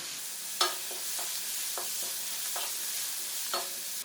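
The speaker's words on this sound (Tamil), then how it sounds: "இப்போ இந்த வெங்காயத்து கூடயே கொஞ்சம் புதினாவையும் சேர்த்துக்கோங்க" Chopped onions and mint frying in hot oil for a vegetable kurma, a steady close sizzle broken by several sharp scraping stirs of a spoon against the pan, with no talking.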